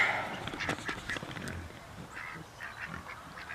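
Ducks kept in a muddy backyard pen with a small pond give a scattered run of honking quacks, fairly close and moderately loud, with several calls overlapping early on and then thinning out.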